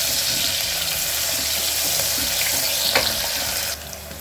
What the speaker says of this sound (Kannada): ಫಸ್ಟು ಈರುಳ್ಳಿ ಹಾಕ್ಕೋಬೇಕು. ಈರುಳ್ಳಿ ಕೆಂಪು ಕಲರ್ ಬರೋವರೆಗೆ ಅದನ್ನ ಫ್ರೈ ಮಾಡ್ಕೋಬೇಕು.